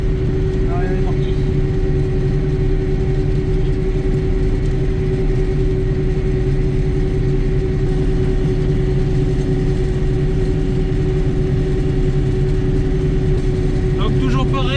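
A combine harvester runs while harvesting sunflowers, with a loud, constant engine drone and steady mechanical hum that continue unbroken throughout.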